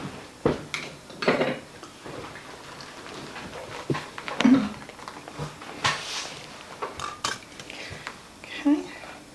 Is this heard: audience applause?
no